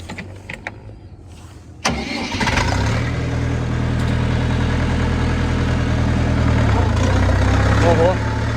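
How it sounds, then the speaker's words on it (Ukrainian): A Horst G404DXU tractor fires up on the key with a sudden catch, then settles into a steady, close, rumbling diesel idle that runs unbroken to the end. "Запускається з ключа, глушиться також."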